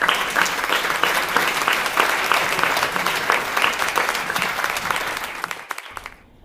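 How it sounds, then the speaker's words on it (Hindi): A poetry-event audience claps steadily and densely up close, then the applause breaks off abruptly near the end. "और तालियां बजाइएगा।"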